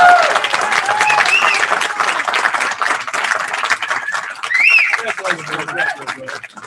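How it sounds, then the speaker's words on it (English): A standing audience breaks into loud, sustained applause for a Rotary club president at an officers' installation, dense clapping filling the room with a few cheers and voices rising over it. "let's give Bill a rousing round of applause"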